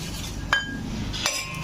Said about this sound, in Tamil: இதை நல்லா உப்பு போட்டு நல்லா இந்த மாதிரி மிக்ஸ் பண்ணிக்கிறேன்